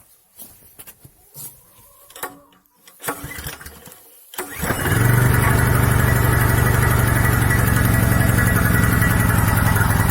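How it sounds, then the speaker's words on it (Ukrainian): An Oleo-Mac Line 3500 petrol generator is hand-pulled, with a few quiet clattering pulls and knocks before the engine catches and settles into a loud, steady, continuous running drone up close. "Тепер спробуємо його завести ручним стартером."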